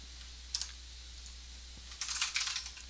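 The word quit is typed on a computer keyboard at a Python prompt, heard as a few soft, close key clicks in a short early group and a quick cluster near the end over steady low hum.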